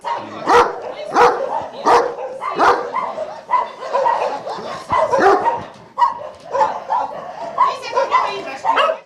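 A dog barks repeatedly, close and loud, in irregular bursts with yips and whimpers, while a person talks at the same time.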